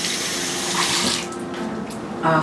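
Tap water runs steadily into a kitchen sink while mackerel is rinsed, a loud close rushing stream that briefly eases and then surges again.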